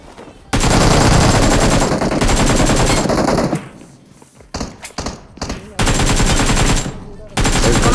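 Loud, rapid automatic gunfire from the BGMI mobile battle game, sustained bursts that cut off abruptly, pause with scattered sounds, then resume at full volume.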